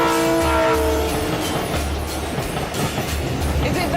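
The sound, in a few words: freight train travelling through the desert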